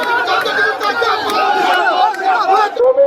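A crowd at a BJP tribal wing march to the Raj Bhavan raises loud, continuous overlapping voices, a dense close-up roar of chanting and shouting throughout.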